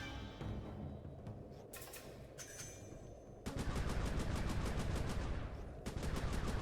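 Turret firing in Sly 3: Honor Among Thieves on PS2, bursts of rapid, evenly spaced shots that swell into a long, loud stream of machine-gun fire, close and dominant with no talk.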